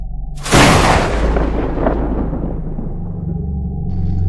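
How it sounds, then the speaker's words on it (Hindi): A rolling thunderclap bursts in loudly after a moment of quiet, then rumbles and slowly decays through the rest of the clip as a dramatic storm effect in a horror story. "आसमान में अचानक बिजली सी कड़कने लगी थी।"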